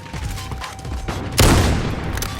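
A single loud gunshot rings out in a sniper video game warm-up, a sharp broadband crack followed by a brief decaying tail, standing out over quieter game ambience.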